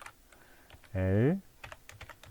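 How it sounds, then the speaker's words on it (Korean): Faint, quick keyboard clicks tap away quietly around a single spoken syllable. "타이핑"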